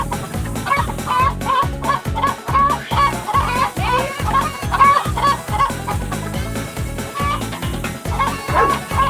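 Chickens cluck in a busy, rhythmic run of clucks and squawks over a steady thumping beat, loud and continuous, with dog-like yips mixed in.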